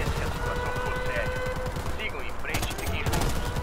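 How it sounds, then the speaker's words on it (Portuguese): Gunfire crackles in a tense match of the video game Predator: Hunting Grounds, including sniper rifle shots, as a rapid run of loud reports over steady game ambience. A player talks over it. "O sniper atira."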